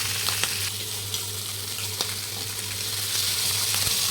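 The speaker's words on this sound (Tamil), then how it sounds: "நல்லா ஊறி இருக்க மீனை அப்படியே நம்ம நல்ல எண்ணெய் காய வச்சு அதில் நல்லா பெருசாக இருக்கிறதுனால அந்த தவா ஃபுல்லாக 2 மீனே சரியாயிடுது" Marinated fish frying in oil on a tawa, a steady close crackling sizzle with occasional small pops and spatters, continuous and fairly loud.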